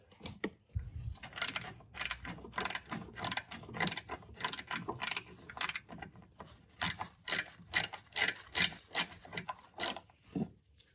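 A ratchet wrench clicks in repeated bursts as it undoes a size 10 bolt holding the horn on a Smart car, steady ratcheting strokes close up with short pauses between, no talking.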